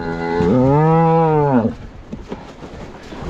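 A single long, loud cow moo rises and falls over about a second, close by, then gives way to quieter outdoor background noise.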